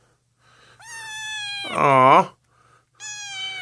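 A newly adopted white kitten gives three clear, close meows, the middle one longer and louder, while a person speaks softly between them.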